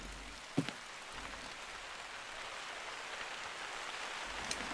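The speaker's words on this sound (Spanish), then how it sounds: "Se nos ha puesto a llover." Steady rain falls in the hunting game The Hunter: Call of the Wild during a wild boar stakeout at night, a soft constant hiss with one brief louder knock near the start, no talking.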